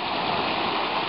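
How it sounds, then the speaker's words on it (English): Water rushing back into the pool of Strokkur geyser in Iceland, a continuous loud turbulent wash with no pauses. "So the water rushes right back in the pool"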